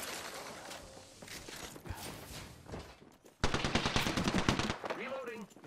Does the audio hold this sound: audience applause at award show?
no